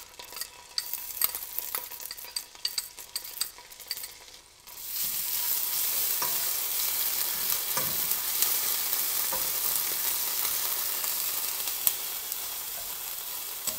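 Ginger paste and minced garlic hit a hot pan and break into a loud, steady sizzle, after a few seconds of quieter stirring scrapes; the frying hiss holds evenly to the end.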